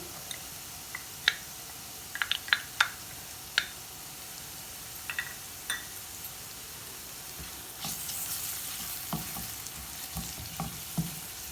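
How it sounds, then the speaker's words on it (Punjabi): Garlic and green chillies fry with onions in a pan, giving a soft steady sizzle broken by sharp spatula clicks and taps, with a brighter hiss swelling partway through; no one speaks. "ਬਸ 2 ਮਿੰਟ ਇਹਨਾਂ ਨੂੰ ਭੁੰਨਾਂਗੇ ਪਿਆਜ਼ਾਂ ਦੇ ਨਾਲ ਹੀ"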